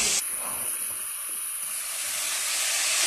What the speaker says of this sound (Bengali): এবার আমরা দিয়ে দেবো মোচা এবং আলুর সিদ্ধ করে রাখা অংশটা।